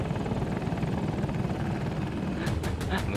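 Helicopter rotor and engine in the shooter video game Battlefield 2042, a steady loud whirring drone throughout, with sharp bursts of gunfire-like pops near the end.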